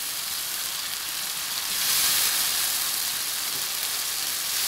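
Tomato puree and finely chopped peeled tomato fry in a spice masala, giving off a continuous soft sizzle and hiss that swells slightly partway through; nobody speaks.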